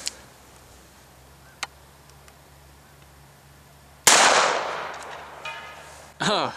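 A 1960 Smith & Wesson Model 27-1 .357 Magnum revolver fires one loud, sharp shot outdoors, its crack ringing out in a long fading tail, after a quiet stretch with faint ticks and before a voice briefly speaks.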